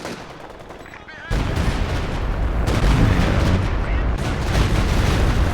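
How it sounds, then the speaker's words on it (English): Stuka dive-bomber barrage in a real-time strategy game, a dense roll of heavy explosions and rumbling blasts bursting in loudly after a quieter start and continuing through, with a voice talking over parts of it. "Alright, first Stuka barrage."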